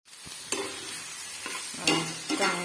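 Boiled wild kuyari vegetables are stirred into hot oil in a pan, with a steady soft sizzle under several distinct scraping strokes of a spoon against the pan, close and fairly quiet, with no voices.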